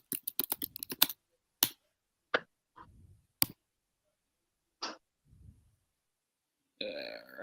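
Typing on a computer keyboard: a quick, dense burst of keystrokes, then a few scattered single clicks with quiet gaps, close and fairly soft.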